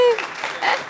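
A studio audience on a Malayalam television talk show breaks into applause, a dense wash of clapping that fades quickly and mixes with a voice speaking over it.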